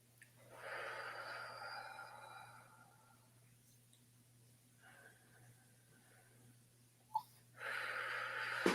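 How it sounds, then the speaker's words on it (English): Two slow, deep breaths taken near the microphone during a live session, each a soft drawn-out airy inhale and exhale, separated by a quiet pause, with a faint steady hum underneath. "Will you join me in 2 nice deep breaths, please?"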